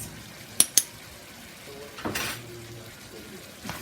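A spoon stirs pepper sauce into curry beef in a pot, with two sharp metallic clinks against the pot and then a short scraping stir, close and fairly quiet.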